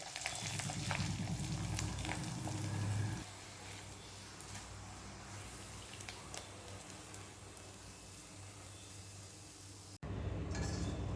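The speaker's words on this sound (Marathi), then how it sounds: "आता साबुदाण्याच्या चकल्या तळून घ्यायच्या आहेत" Sago (sabudana) chaklis fry in hot oil with a constant close crackling sizzle, a louder bubbling burst at the start and a brief clink of utensils.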